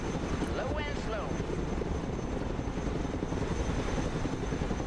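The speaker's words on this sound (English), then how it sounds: "Chinook, awaiting mission." A Chinook heavy transport helicopter flies low and slow in the war game Broken Arrow, a dense, loud, continuous rotor and engine roar with steady thrumming throughout.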